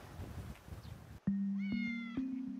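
A cat meows clearly and close by on an island, a drawn-out cry followed by a couple of shorter meows, after a brief stretch of low background noise.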